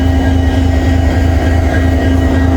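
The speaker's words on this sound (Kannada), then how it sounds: "ಈಗ ಡಿಪಾರ್ಚರ್ ಆಗ್ಲಿಕ್ಕತ್ತದ ನೋಡ್ರಿ. ಇದು ಹರಿಹರ ಟ್ರೈನ್" A departing Hosapete-to-Harihara train's engine rumbles loudly and steadily nearby, with a low droning hum and a faint high whine, no talking.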